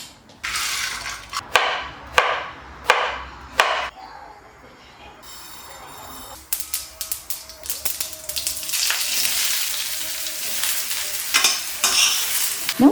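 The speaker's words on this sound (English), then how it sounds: "a tablespoon of dhania seeds, and sesame seeds, yellow, that I roast along with 2 finely chopped dry coconut" Dhania seeds, yellow sesame seeds, chopped dry coconut and peeled peanuts being dry-roasted in a pan, with a run of sharp stirring scrapes followed by a steady, building sizzle and rattle of seeds, close and fairly loud.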